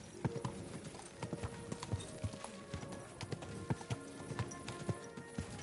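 Steady clip-clop of horse hooves at a walking pace in Kingdom Come: Deliverance II, close and distinct, with a faint background bed of ambient sound.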